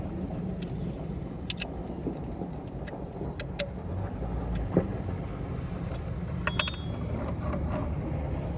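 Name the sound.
tightening bolts on electric bow thruster during rebuild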